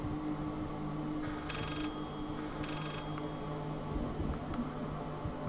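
A telephone in the horror video game Layers of Fear rings in two short bursts over a low droning ambience, faint and distant.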